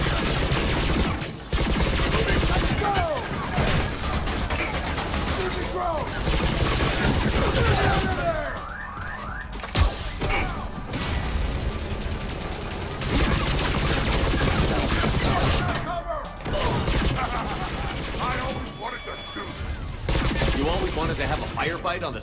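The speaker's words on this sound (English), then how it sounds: "Firefight on the CIC of my ship?" Sustained gunfire and bursts of shooting in a chaotic firefight aboard a ship's CIC in the Mass Effect 3 video game, loud and continuous across the clip with impacts, game effects and voices mixed in.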